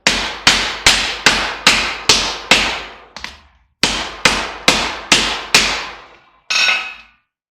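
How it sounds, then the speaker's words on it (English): A hammer strikes a rag-covered circuit breaker in a steady run of about a dozen loud, close blows, each a sharp impact with a brief decaying ring, with one short pause midway and a final heavier, more crackling hit. "We're going to hit it with a hammer."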